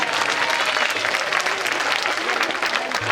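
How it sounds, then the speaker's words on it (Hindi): Dense applause from an audience at a devotional gathering, steady and loud for the whole stretch, with crowd noise mixed in and no clear break. "एक बार दोनों हाथ ऊपर खड़े करके ताली बजनी चाहिए"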